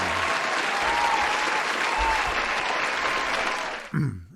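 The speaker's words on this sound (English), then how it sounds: "clapping." A canned applause sound effect plays back on a talk show, a dense, even wash of many hands clapping for about four seconds that cuts off abruptly at the end.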